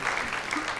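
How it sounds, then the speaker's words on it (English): Audience applause at a medical conference on Alzheimer's and evolutionary medicine, a brief burst of steady, dense clapping filling the room with no voices over it. "we'll have a big round of applause for him."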